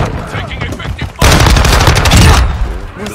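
Loud sustained automatic gunfire from Call of Duty Modern Warfare 2 on the Shoot House map, a dense burst of rapid shots after a quieter opening with scattered bangs, fading at the end.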